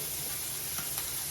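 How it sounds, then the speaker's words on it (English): Ground turkey sizzles steadily in a hot pan, a close, even crackling hiss with faint pops, no voices. "Nice little sizzle."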